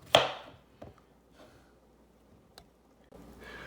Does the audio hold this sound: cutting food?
yes